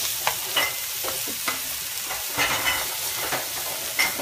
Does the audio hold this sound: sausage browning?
yes